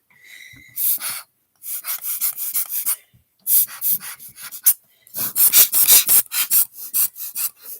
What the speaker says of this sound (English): We're just gonna use this air blower to